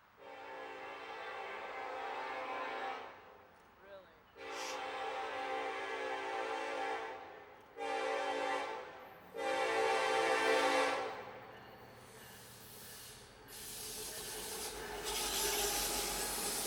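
A northbound freight train approaches in Atlanta, sounding its horn in several long loud blasts separated by pauses, followed by the rising rumble and rush of the train passing close.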